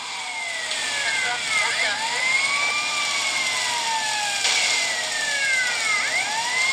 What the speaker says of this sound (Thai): ถนนลื่นด้วยฝนตกเปิดหวอหน่อยผมเปิดหวอเพื่อความเนียน